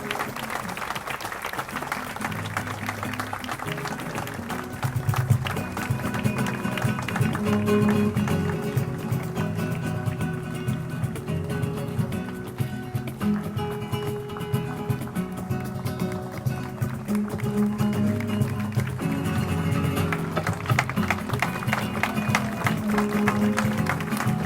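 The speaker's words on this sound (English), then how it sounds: "help us welcome, with a big round of applause, our favorite friend, Mickey Mouse." Crowd applause welcoming Mickey Mouse at the Gran Destino tower grand opening ceremony at Coronado, a steady wash of clapping with cheering and background music that holds for the whole stretch.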